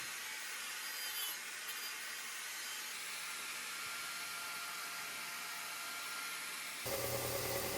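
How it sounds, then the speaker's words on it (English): A wire wheel grinds a spear forged from a steel leaf spring, producing a continuous, close, harsh rasping whir. The sound shifts in tone near the end as the wheel bites differently. "for now all I'm using is a wire wheel for grinding"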